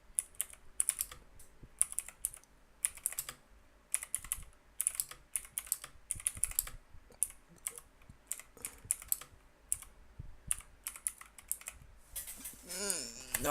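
Bursts of typing clatter on a computer keyboard during touch-typing practice, quick irregular runs of clicks separated by short pauses, close and fairly crisp, with a brief electronic warble near the end.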